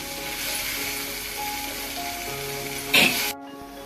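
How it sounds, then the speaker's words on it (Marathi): Green peas fry lightly in a pan with a steady close sizzle and a faint tonal hum underneath, then a brief louder burst of sputtering before the sound cuts off abruptly. "आता आपले मटर पण थोडेसे हलकेसे आपण फ्राय करून घेतले आहेत"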